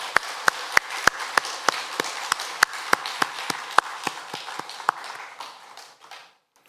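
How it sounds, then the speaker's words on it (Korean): A church congregation claps in steady unison, with crisp, evenly spaced beats over a bed of scattered clapping that gradually fades and stops into silence. "이제 다 같이 오직 하나님께 영광의 박수를 올려드리겠습니다"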